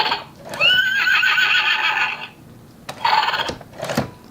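A plastic Spirit toy horse from the Spirit Riding Free line neighs electronically as its jointed head is moved, giving a whinny that is repeated, clear and close, followed by short clip-clop effects.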